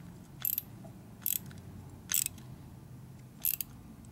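Wrench ratcheting a nut tight on a Harley-Davidson Knucklehead engine during a tune-up, four short bursts of clicking spaced about a second apart, close and crisp over a quiet background.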